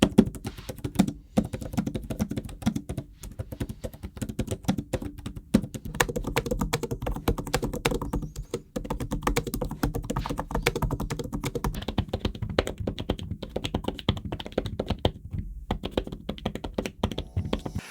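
Rapid, continuous tapping of keys on a tablet keyboard cover, as on the Surface Pro X, Galaxy Tab S6 or iPad Pro, dense and close-miked with short pauses between bursts and no talking.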